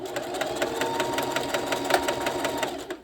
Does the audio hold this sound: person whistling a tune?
no